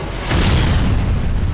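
Booming blasts burst against an army in a fantasy superhero TV battle, like festival firecrackers, a loud sustained rumble with a sharper surge of explosions partway through.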